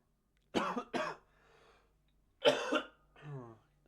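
Two sharp coughs in quick succession, then a pause and another hacking cough, close by and fairly loud in an otherwise quiet room.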